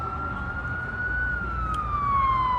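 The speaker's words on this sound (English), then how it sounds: "what would it be if not New York City, an ambulance going on a Friday night?" An ambulance siren on a New York City street at night wails in a steady, slowly falling tone over a low rumble of traffic, moderately distant.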